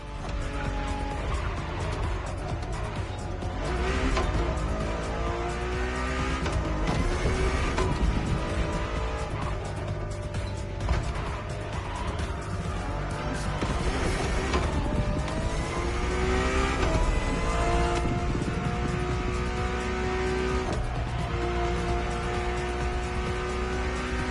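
A Ferrari road-legal Formula One–style supercar driving in The Crew Motorfest: a loud, sustained engine wail rising and dropping through gear shifts, with tire squeal and rushing road noise throughout, no talk.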